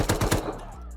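AK and LR rifle fire in the game Rust, a quick burst of about four loud, closely spaced shots followed by a fading tail.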